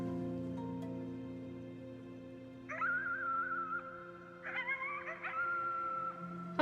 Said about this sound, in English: You howled at the moon at the top of your lungs.